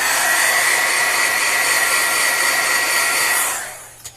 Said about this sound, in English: I want to heat set that just a little bit.